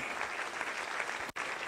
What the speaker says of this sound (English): warm round of applause for this